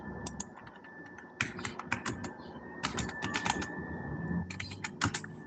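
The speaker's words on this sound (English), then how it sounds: "That sounds like me banging on my keyboard" Rapid clattering keystrokes on a computer keyboard come in bursts with short pauses between, close and fairly clear over a faint background hum, with no one speaking.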